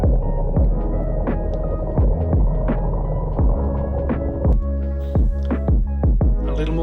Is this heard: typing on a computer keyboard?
no